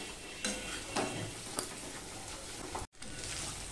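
Spices and spiny gourd sauté in a pan, a quiet continuous sizzle with a few soft stirring scrapes and a brief dropout near the end.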